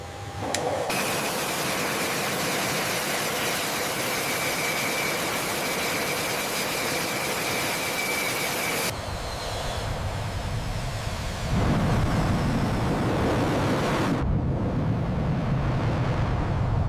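An F/A-18E Super Hornet of the Blue Angels runs its jet engine in a steady, loud, broadband roar. The tone shifts abruptly several times as the power changes, and it drops to a deeper rumble near the end.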